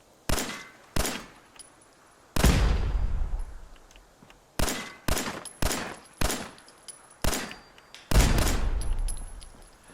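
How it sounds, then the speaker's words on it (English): Gunshots from a weapon fired in Fallout 4 after leaving the vault into the wasteland, about ten loud separate shots with ringing tails, some close together and others spaced apart. "Now let's go ahead and waste a few bullets here."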